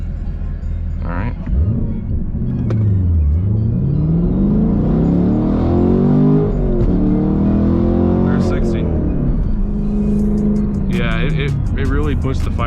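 A 2023 Camaro LT1 with a six-speed manual accelerating hard from a stop, the engine note climbing through rising revs with brief dips at gear shifts, loud and close from inside the car, with people talking over it.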